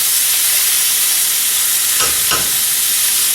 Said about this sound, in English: I'm going to put just a little bit of it in a hot frying pan.